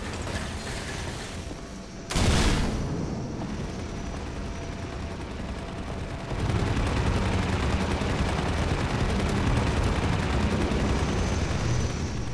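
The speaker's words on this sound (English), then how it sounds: "Oh, it's shooting out the windows, okay." Sustained rapid automatic gunfire from a hovering helicopter in the game Half-Life 2, dense and loud, starting with a sharp blast and running almost continuously, with a heavier burst in the second half and no talk.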